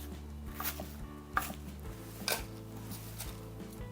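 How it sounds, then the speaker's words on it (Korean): A kitchen knife chops thick green onions into 4 cm pieces on a cutting board, giving a few distinct, spaced-out knocks that sound close by over a low background hum. "굵은 것은요 4cm 간격으로 썰어주면 되거든요."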